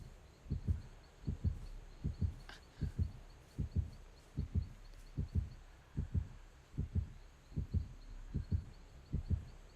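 Heartbeat from the Dead by Daylight video game: a steady, evenly spaced double-thump pulse, low and muffled, repeating about once a second alone, with a brief faint click midway.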